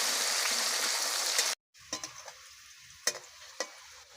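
Malabar spinach fries in hot oil with a loud, dense sizzle that cuts off abruptly, followed by a few scattered clinks and pops in the quiet; no talking.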